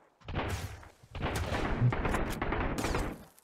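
Enemy gunfire in the survival game Sunkenland, several loud bursts of rapid shots rattling through a wall, one short burst then a longer sustained volley with crackling impacts.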